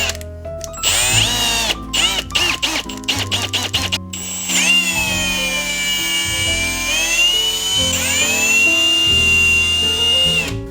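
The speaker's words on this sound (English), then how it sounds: "You want to start the drill beforehand before you go in." A power drill fitted with an egg beater whirs loudly, starting with short bursts and then running steadily while scrambling eggs in a bowl, its pitch shifting as it works.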